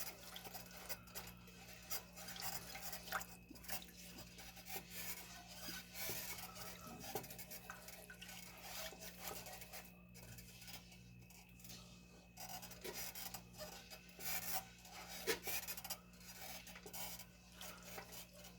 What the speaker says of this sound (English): we're just going to whisk this up.